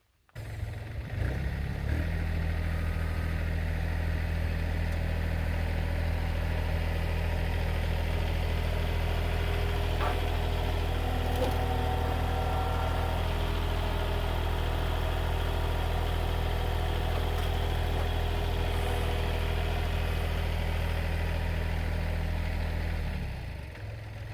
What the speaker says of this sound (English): And let's see if the tractor picks it up.